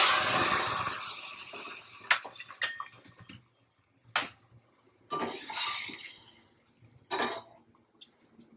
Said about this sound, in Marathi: फोडणी चांगली करतली की आपण त्यात शिजलेली डाळ टाकायची.